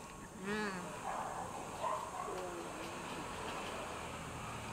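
Dogs whimpering and yipping at home nearby, brief high whines early on, heard beneath people talking.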